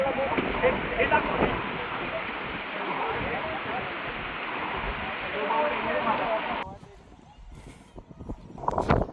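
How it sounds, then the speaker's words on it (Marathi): Water rushes down in a waterfall-like flow on the route to Visapur fort, a steady loud broadband roar that drops away sharply near the end, leaving quieter outdoor sounds. "इथं धबधब्यासारखं पाणी येतं"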